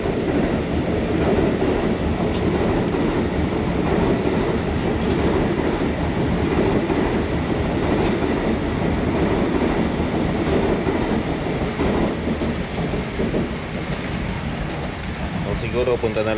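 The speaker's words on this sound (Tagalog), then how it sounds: "May dumadaang pan tren." A train rolls past during heavy rain in Taiwan, its rumble and wheel clatter sustained and fairly loud over the hiss of the downpour, easing slightly toward the end.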